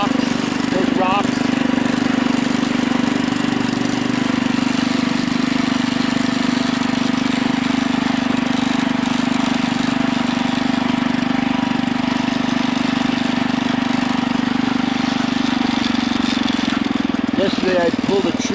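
A Husky 600 engine runs steadily at a constant idle-like drone for the whole stretch, a loud, close mechanical hum with faint rattling texture and no change in pace.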